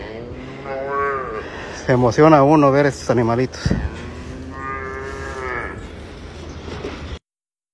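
Holstein cattle low by a newborn pair of calves: several clear, drawn-out moos, some loud and close, overlapping with a person speaking throughout.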